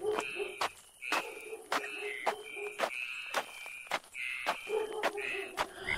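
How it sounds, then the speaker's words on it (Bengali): Crickets chirp steadily at night, with sharp clicking pulses and low croaks breaking in at irregular intervals. "ঝিঝি পোকার একটানা শব্দ"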